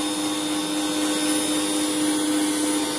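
An electric mixer beats sweet potato cheese cake batter with a constant, loud motor whir and steady tonal hum, with no pauses or speech.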